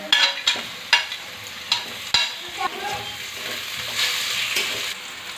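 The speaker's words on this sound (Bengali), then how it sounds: "পেঁয়াজ রসুন ভালোভাবে ভাজা হয়ে গিয়েছে, এবারে দিয়ে দেবো টমেটো কুচি।" Chopped tomatoes stirred into frying onion and garlic in a pan for a duck curry: crisp rhythmic spatula scrapes over a constant oily sizzle, nearby and fairly loud, no talking.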